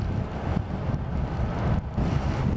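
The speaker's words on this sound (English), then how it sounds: "Well, the wind appears to be back." Steady wind roars and buffets across the microphone at altitude on an adventure motorcycle ride, a loud, continuous rumble with gusty surges and no talk.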